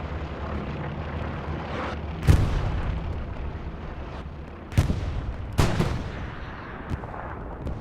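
Artillery and gunfire in the World War II shooter Hell Let Loose during a competitive match, with several sharp booming blasts spaced apart over a steady rumble of distant battle.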